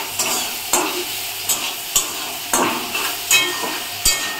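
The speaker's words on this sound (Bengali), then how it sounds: "একদিকে মাছ ভাজছি আর একদিকে আলু উচ্ছে ভাজা" Fish frying in oil in a wok (kadai) hisses steadily while a spatula stirs it, and regular scraping strokes come about every half second over the continuous sizzle.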